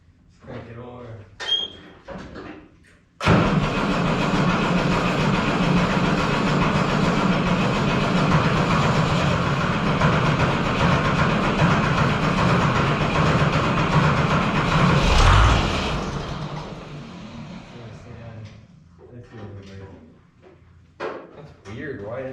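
A Ford 6000 tractor engine cranks over after its injector pump work, giving about twelve seconds of loud, steady mechanical churning that stops abruptly, with voices before and after.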